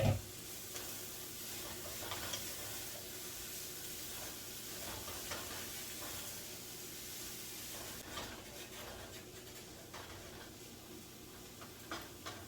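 Cauliflower rice and broccoli slaw stir-frying with chicken in a pan, a steady close sizzle and hiss with occasional stirring scrapes running throughout, no talking.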